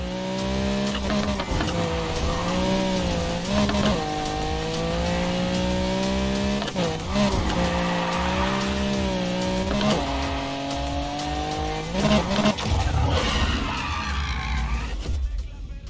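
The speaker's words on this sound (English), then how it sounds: "One good drift, maybe?" A car drifts in the Need for Speed Heat racing game, its engine droning with shifting revs while tires squeal through a long slide, loud and continuous.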